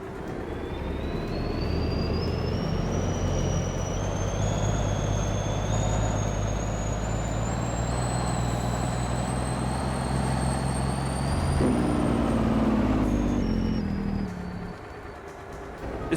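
A truck in Farming Simulator No Man's Land, its engine running loud and steady with a rising whine that climbs slowly, then cuts off and falls away near the end.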